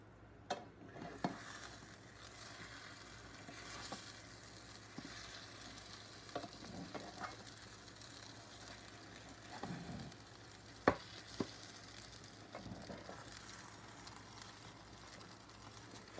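French toast cinnamon rolls cook in a pan with a soft, steady sizzle for about sixteen seconds. Occasional light clicks and scrapes of a utensil against the pan break through the frying, and no one talks.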